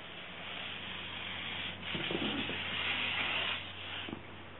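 A hand sanding block worked across the body panel of a 1965 Mustang, a steady broad rubbing rasp that swells louder for a couple of seconds mid-clip, close and alone with no talk.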